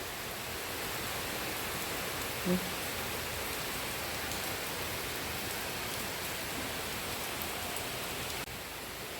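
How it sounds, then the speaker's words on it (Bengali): Heavier rain pours in a dense, unbroken hiss, fairly loud and steady throughout with a single brief knock early on and no speech. "আরও বেশি জোরে আসলো বৃষ্টিটা"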